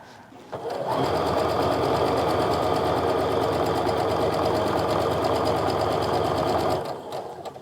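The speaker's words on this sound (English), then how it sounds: "And I'm gonna sew these guys together." Sewing machine stitching quilt pieces together for a beginner half-square-triangle quilt, running steadily and loud for about six seconds with a fast even rattle, starting and stopping cleanly, no talking.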